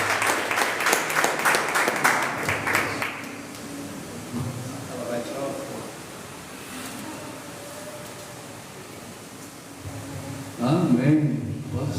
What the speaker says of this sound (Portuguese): Quantos podem aplaudir Jesus pela vida deste homem de Deus